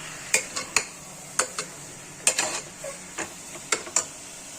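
Mutton keema being stirred and fried in oil in a pan, with a series of sharp scraping ticks from the spoon against the pan over a soft background sizzle, irregular and close.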